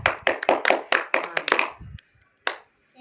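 Young children in a preschool counting lesson clap their hands in a quick, fairly even run of about nine sharp claps. A single late clap follows after a short quiet gap.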